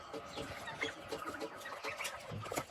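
An active rooster and a flock of chickens cluck in a farmyard pen, a continuous chorus of soft overlapping clucks heard at a moderate distance and fairly faint.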